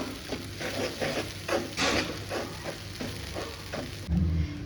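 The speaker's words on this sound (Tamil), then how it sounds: "இப்போ வந்து எல்லாத்தையும் சேர்த்து ஒன்றா வந்து கொஞ்சம் நல்லா வறுத்துடலாம்" Ingredients for wheat paniyaram roasting in a pan with cardamom powder, stirred with a utensil: a soft continuous sizzle broken by rhythmic scraping strokes, close up and without speech.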